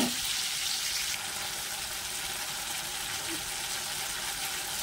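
Ginger frying in oil with tomato in a pan for a vegetarian dish, a continuous moderate sizzle with a steady hissing texture, heard close without talk.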